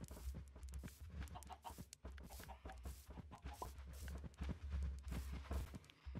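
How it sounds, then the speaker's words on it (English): Minecraft chickens cluck in a busy flurry of short, repeated calls over a steady low hum, with quick footstep-like taps mixed in throughout. "Chickens."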